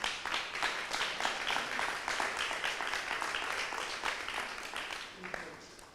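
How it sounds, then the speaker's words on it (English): A crowd at a live discipleship retreat session claps in a steady, dense wash of applause that carries on at even loudness for several seconds before tapering off near the end. "Why did you clap?"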